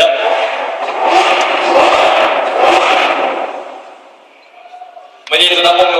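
An Italian V12 car engine roars loudly and close, eases off briefly toward the end, then surges back with a sharp rev while voices talk alongside.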